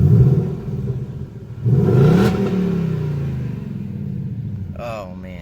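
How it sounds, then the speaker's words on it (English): A 2020 Ford Mustang GT Performance Pack V8 revs twice nearby, each burst rising sharply and then settling into a rumbling idle, with brief talk at the end. "Give it a couple revs."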